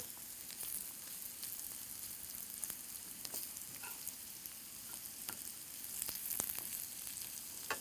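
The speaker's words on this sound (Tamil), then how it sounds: "ஸோ இந்த பன்னீரையும் நல்லா ரொட்டேட் பண்ணி விட்டிங்கன்னா" Paneer frying in a pan gives a steady, soft sizzle, with faint scraping and clicks as the cubes are turned, and no voices.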